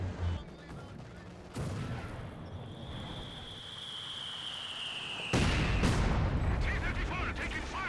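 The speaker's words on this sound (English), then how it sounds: "T-34 taking fire! They're shooting!" Gunfire and artillery in the WWII strategy game Company of Heroes 2, with a tank under attack: a loud, dense battle din of repeated shots and blasts that swells into heavier bursts near the end, with commentary talking over it.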